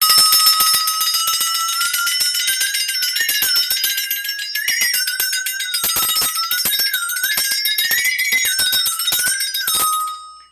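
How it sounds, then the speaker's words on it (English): A flexatone plays a wavering, bell-like melody, its bright metallic tone bending in pitch with a shimmering rattle throughout, ending in a fade. "Khachaturian has the flexitone actually playing the melody or the tune in"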